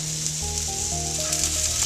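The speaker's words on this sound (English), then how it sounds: "Now we're going to add our butter to the pan." Butter sizzles steadily as it melts in a pan over moderate heat, a loud, continuous crackling hiss close up, with faint tonal music underneath.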